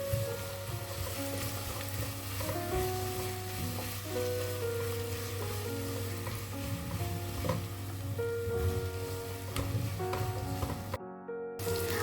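Sliced onions with salt sautéing in a pan for a chicken samoona filling, a steady close sizzle broken by scraping stirs, alone until an abrupt drop at the end.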